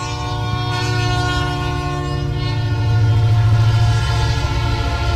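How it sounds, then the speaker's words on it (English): A Canadian National freight train passes a varsity baseball field, its horn sounding in loud sustained blasts over a continuous rumble of rolling cars, close and steady throughout. "Umpire calls timeout as the train goes by."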